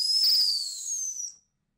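A dog training whistle gives the sit signal: one shrill, steady whistle blast lasting about a second and a half, close and alone.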